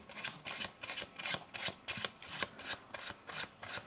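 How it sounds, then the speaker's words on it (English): Playing cards are shuffled in quick repeated riffles, about eight crisp papery bursts in a steady rhythm, close up. "we're going to give them a bit of a shuffle"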